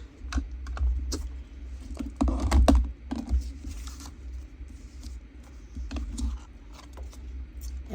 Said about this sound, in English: Now we're going to cut them out.